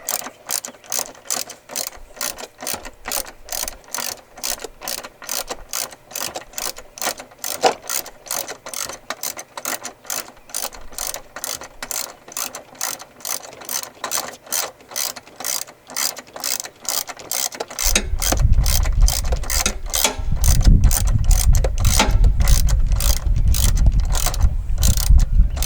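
A ratchet wrench with a 10 mm socket removing long, rusty bolts on a 2006 Jeep TJ during heater and air-conditioning work: fast, steady, close ratcheting clicks that continue throughout, with a low rumbling thump joining in the last third.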